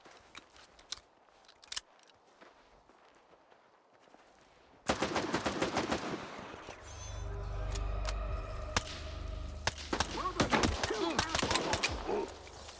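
Gunfire crackles in S.T.A.L.K.E.R. 2: Heart of Chornobyl as rats are shot, with scattered sharp single shots followed by a dense burst of rapid automatic fire and clatter, loud and close.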